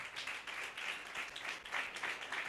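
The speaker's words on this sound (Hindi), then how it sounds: "इनके लिए जोरदार तालियां दिया" Congregation at a Christian preaching service claps hard for a couple, a dense pulsing wash of applause from many hands, steady and fairly close throughout.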